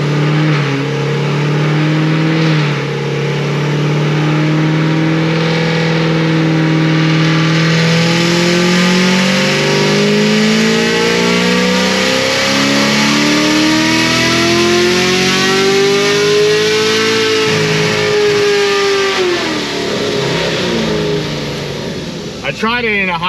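A supercharged Stage 5 ProCharger LT1 Camaro engine roars loudly on a dyno through a long pull in sixth gear, its pitch sweeping steadily upward before dropping off sharply at the end.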